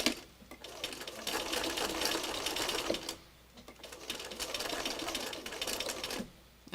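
A sewing machine stitches thread in two long, fast, rattling runs, stopping briefly between them and again near the end, close and clear.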